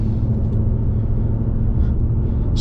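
A 2024 Ford Mustang GT Premium V8 with active exhaust set to sport mode, a steady, loud low rumble heard from inside the cabin while driving, continuous with no speech.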